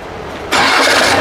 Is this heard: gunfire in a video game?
no